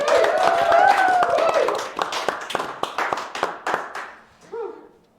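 An audience clapping hands at an Indonesian talk-show event, scattered claps rising and thinning over several seconds, mixed with a host's voice talking at the start and a brief vocal sound near the end.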